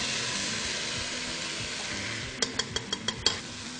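Eggplant mixture with onion frying in a pan, a loud steady sizzle and hiss throughout, joined near the end by a quick run of six or seven rhythmic scraping stirs, close, no talk.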